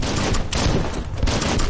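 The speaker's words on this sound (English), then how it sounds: "Bullets everywhere." Dense, continuous automatic gunfire from the Biomutant video game, loud and close, with rapid overlapping shots filling the whole moment.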